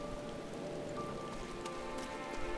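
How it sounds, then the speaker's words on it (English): Harsh rain in the video game Final Fantasy XIV Endwalker, a steady dense patter of drops on surfaces that holds even and continuous throughout with no voices. "That's some harsh rain."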